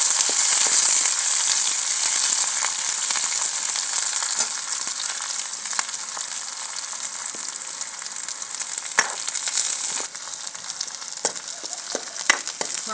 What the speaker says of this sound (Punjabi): ਗੰਢਾ, ਹਰੀ ਮਿਰਚ, ਲਸਣ ਭੁੱਜ ਗਏ ਹੈ।